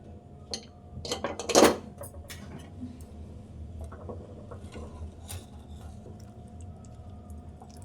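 A pressure cooker lid is opened after cooking goat trotters curry, giving a few sharp metallic clinks and one louder clatter of the pot near the start. Quiet kitchen background follows.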